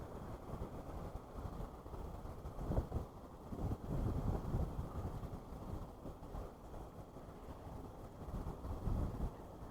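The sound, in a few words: wind blowing on microphone while fishing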